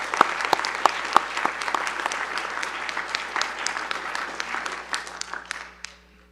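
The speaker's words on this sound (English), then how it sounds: "let's have a round of applause" Audience applause at the closing plenary of a scientific workshop, a dense patter of many hands clapping steadily for about six seconds before fading out, with a few sharp nearby claps standing out at the start.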